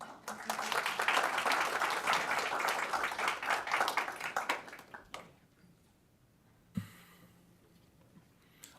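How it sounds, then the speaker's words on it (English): Applause at a county quorum court meeting, a room of hands clapping steadily for about five seconds and then dying away, leaving a quiet room with a brief thump and faint shuffling. "A round of applause."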